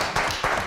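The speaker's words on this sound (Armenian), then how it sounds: "ծափարությունները" Applause breaks out for a cafe chef named as judge at a cooking show, a brief burst of clapping with a couple of louder swells.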